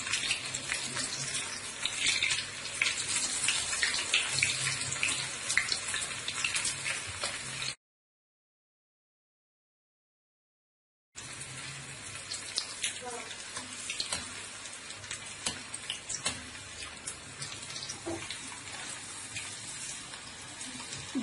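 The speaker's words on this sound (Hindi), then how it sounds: "गोभी को अच्छी तरह गोल्डन ब्राउन होने तक हम पकाएंगे।" Cauliflower florets for gobi manchurian fry in hot oil, giving a continuous crackling sizzle close up, broken by a few seconds of silence before the bubbling resumes.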